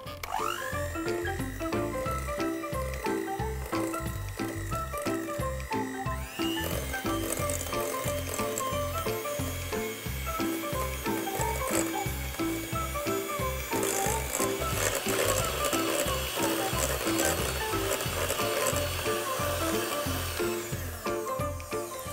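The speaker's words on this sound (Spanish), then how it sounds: "Vamos a batir ahora hasta que nuestra preparación esté bien blanquita y tengamos un lindo cremado." An electric mixer creams sugar into carrot cake batter, a loud, close, continuous motor whir with rhythmic clattering of beaters against the bowl that continues without pause.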